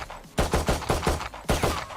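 Pistol fire in the video game Valorant, a quick burst of about eight loud, punchy shots in two rapid groups with a short pause between them, close and without talk.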